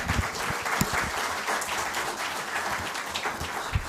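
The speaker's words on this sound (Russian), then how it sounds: "Аплодисменты!" An audience at a forum breaks into applause, a lively mix of individual claps and crowd noise that holds at moderate volume for a few seconds.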